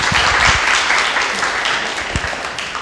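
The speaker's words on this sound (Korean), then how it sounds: "큰 박수 부탁드립니다." Dense, loud applause from a seated audience at a literary talk event, continuous clapping that fades slightly toward the end.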